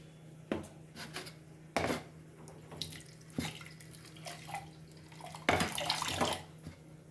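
Water pours into a cooking pot holding ground tomatoes (six tomatoes) in a home kitchen, with splashing bursts and clinks of the pot over a steady background hum.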